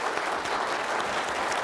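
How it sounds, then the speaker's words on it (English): A steady wash of audience applause for a panel at a Texas budget policy event, dense and even throughout with no pauses or voices. "We ask that you give our panel a round of applause and thanks for them today"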